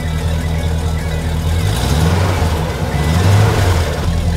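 A 1969 Dodge Super Bee idling steadily, a low, even engine rumble that stays close and fairly loud throughout with no revving.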